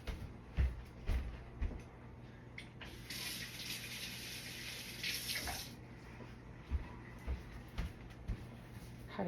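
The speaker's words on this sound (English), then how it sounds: "Let me wash my hands." A kitchen sink tap runs steadily while hands are washed under it, with a brief stronger gush in the middle and some knocks and clatter around it, heard faintly.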